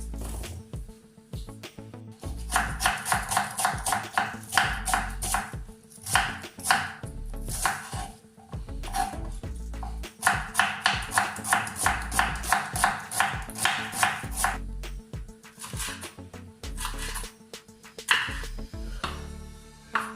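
Garlic, ginger and red chilies chopped on a cutting board, with bursts of rapid, sharp knife strikes close up, broken by brief pauses, loud and alone.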